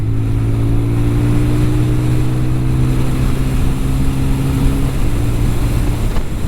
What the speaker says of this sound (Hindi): और अब इसका एग्जॉस्ट नोट सुनो आप।